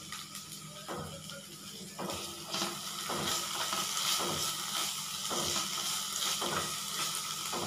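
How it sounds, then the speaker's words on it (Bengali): Lentils fry in a pan with a soft, continuous sizzle broken by a few faint stirring scrapes at regular intervals, close but quiet, with no talking. "একটুখানি ভালো করে ভাজা হয়ে যাক ডালটা,"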